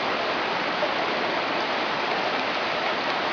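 A flooded river pours over its bank into nearby yards, a loud, steady, broadband rush of water heard from a fair distance with no voices.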